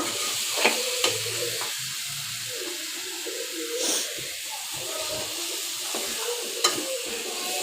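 Taro roots sizzle steadily as they sauté in spiced masala in a pan for a hilsa fish curry, a constant close hiss broken by a few sharp spatula scrapes and stirring clicks, with no talking.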